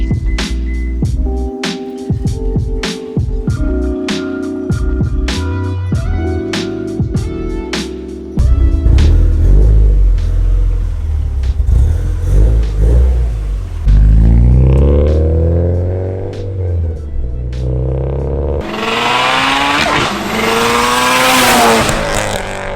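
Subaru STI with a Tomei exhaust and big turbo, cold starting: a loud, close engine cranks and catches, then settles into a rough, burbling idle with throttle blips and a brief higher-pitched surge near the end.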